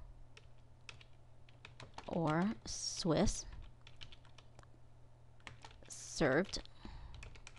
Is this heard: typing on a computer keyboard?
yes